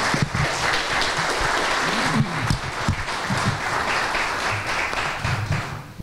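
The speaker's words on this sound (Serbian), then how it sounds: "Još jedan aplauz za našeg ambasadora" An audience at a public talk applauds the Palestinian ambassador to Bosnia and Herzegovina with loud, sustained clapping that fills the whole stretch evenly and barely thins toward the end.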